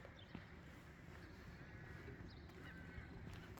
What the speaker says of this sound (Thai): เสียงห่าน